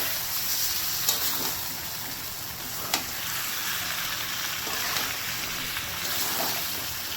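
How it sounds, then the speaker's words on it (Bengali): Chicken curry with tomato sizzles steadily in a pan at home, a constant loud frying hiss with a few brief stirring scrapes. "এখানে টমেটোও দিয়ে দেবো। ভালো করে কিন্তু কষে নেবো।"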